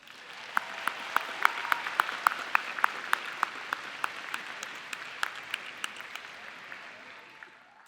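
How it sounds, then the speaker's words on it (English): A round of applause at the Boston University law school commencement, steady clapping from a large audience with a few close, sharp individual claps standing out in an irregular rhythm, gradually thinning toward the end. "So graduates, please give a big round of applause to the people who helped you get here."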